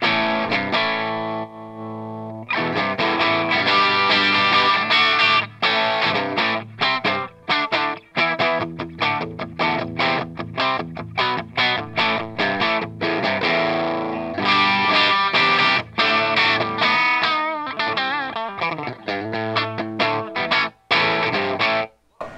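Electric guitar played through a Line 6 POD HD500X boutique amp model, distorted with chorus-like effects, continuous strummed chords and riffs, loud and close with no talking.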